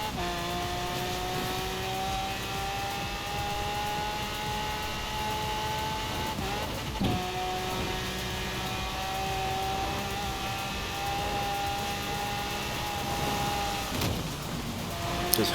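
A Lamborghini Veneno on an AWD race tune in Forza Horizon 4 holds a steady high engine whine at speed, briefly dipping at a couple of gear shifts, with no talking over it.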